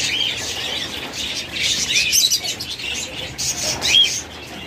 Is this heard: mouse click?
no